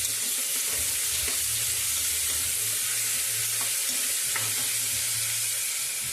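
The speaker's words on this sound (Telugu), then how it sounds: "ఉల్లిపాయ ముక్కలు ఇలా వేగిపోయాక ఇందులో టమాటా ముక్కలు కూడా వేసి బాగా టమాటాలు సాఫ్ట్గా ఉడికేంత వరకు వేయించుకోవాలి" Tomato pieces and onions frying together in a pan, a steady soft sizzle with occasional stirring clinks, close and alone with no talk.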